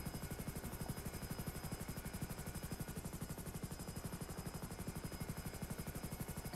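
Helicopter rotor in GTA, a steady rapid thudding chop that runs loud and continuous throughout, with no one talking over it.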